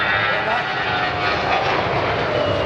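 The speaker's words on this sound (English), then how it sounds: "Then they did it again, but this time even closer." Airbus A319 airliner making an even closer pass beside another plane at an airshow: a loud, continuous engine roar with a slight falling tone, unbroken for the whole stretch and no voices.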